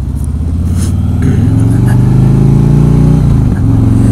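A motorcycle engine rumbles close and loud, pitch rising steadily as it revs, then dipping briefly near the end.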